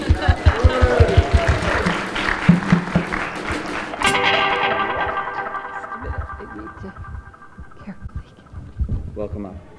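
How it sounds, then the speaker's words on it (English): A church congregation at a Sunday service applauds a member coming up to make an announcement, the dense clapping mixed with voices and fading into a quieter, humming room. "big round of applause for Shirley"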